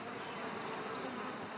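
Thousands of bees swarm a linden tree in full bloom in a garden, making a dense, continuous buzzing drone that is steady and soft throughout.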